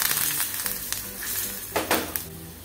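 Torn curry leaves crackling and spitting in hot oil for baingan bharta, a steady bright sizzle with a few sharper pops and a light scrape of stirring near the end.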